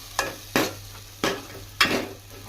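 Masala for a village-style stuffed brinjal and egg curry is stirred and fried in a pan: four sharp scraping strokes of the spoon, each followed by a short sizzle, close and unaccompanied by speech.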